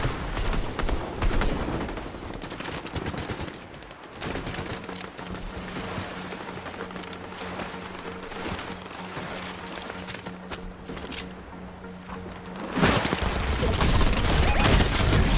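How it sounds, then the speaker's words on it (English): Rapid bursts of gunfire in a shooter video game, dense and loud throughout, with a louder stretch at the end and no voices. "Oh, I hear that fucking shotgun"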